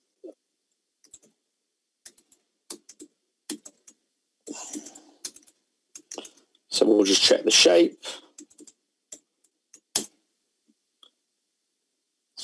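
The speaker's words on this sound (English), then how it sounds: "Excuse my on-the-fly typing." Someone types sparse, hesitant keystrokes on a computer keyboard while coding a data analysis in Python. Single clicks and short bursts come with pauses between them, and a brief stretch of quiet speech falls partway through.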